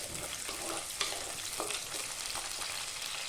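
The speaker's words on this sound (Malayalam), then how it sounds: "വേപ്പില കൂടി ഇടും. ഒരു 2 സെക്കൻഡ് നേരം ഒന്ന് ഇളക്കുക." Curry leaves frying in hot oil for a beef roast are stirred, producing a loud, continuous crackling sizzle up close with soft spatula scrapes, cutting off abruptly at the end, no speech.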